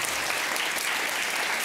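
A studio audience applauds at a political talk show called Черное зеркало, a dense, steady wash of clapping that holds at even loudness throughout, with no voices over it.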